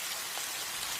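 Steady rain falls in a cartoon scene, making a dense, even hiss of drops across one continuous second with no voices.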